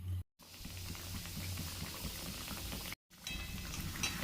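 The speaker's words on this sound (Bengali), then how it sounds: "আলুগুলো এক একটা দিয়ে দেব, আর এগুলো কম আঁচে দু পিঠটা লাল করে ভেজে নেব।" Potato pieces fry in hot oil over low heat, a continuous close bubbling hiss with brief cuts, fairly quiet and without voices.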